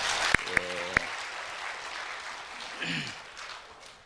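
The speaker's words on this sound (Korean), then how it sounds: "우리 박수 한번 하겠습니다" A church congregation applauds the choir, accompanist and orchestra at a Sunday service, steady clapping from a moderate distance that fades out over a few seconds, preceded by a few sharp knocks.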